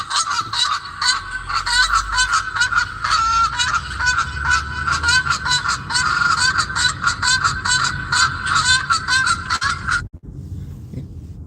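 A goose honking sound effect, played when a delivery order is completed, gives a rapid, loud run of nasal honks for about ten seconds and then cuts off.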